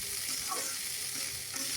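Rice fries and sizzles in a pan while being stirred, a soft, steady crackle with light scraping, fairly quiet and close, with no talking.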